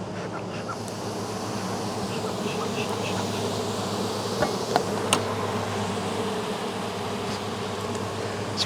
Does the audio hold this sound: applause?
no